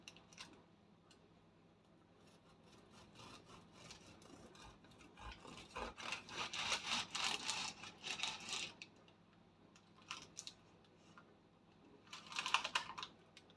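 A knife saws into a freshly baked no-yeast, no-knead loaf, making soft rasping, crunching strokes that build up in the middle of the clip and return briefly near the end, faint and close.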